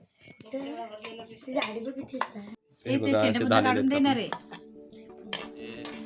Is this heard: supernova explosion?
no